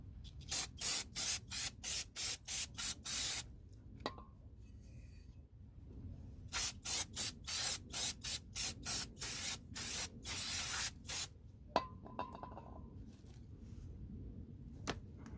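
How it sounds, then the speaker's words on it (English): Aerosol brake cleaner sprayed onto brake parts of a 2005 Toyota Prius, heard as two long runs of loud, rapid hissing bursts separated by a quiet pause, with a few clicks and no talking. "I'm gonna spray these down."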